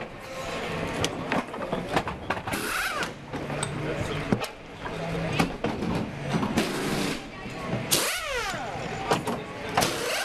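A BMW GT1 race car engine on a racing circuit in Slovakia, revving and shifting as it exits a turn, mixed with crowd and track ambience, with a commentator talking over it.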